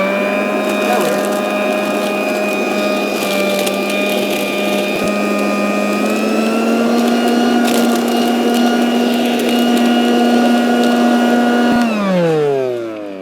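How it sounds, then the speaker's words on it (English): Garden leaf vacuum shredder runs loud and steady up close, sucking up dry dead leaves with a continuous motor whine and rattling debris, then winds down at the end. "So what I've thought I'd do is I'll hoover them up just to get rid of them."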